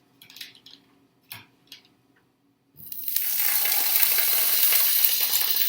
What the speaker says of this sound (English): I'll show you after I put this stick of butter on.